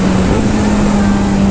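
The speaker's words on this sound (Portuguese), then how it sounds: "Acelerando, Edinho." A Kawasaki Z900 motorcycle accelerates with a loud, close, steady engine drone that holds an even humming pitch throughout the short stretch, with no talking.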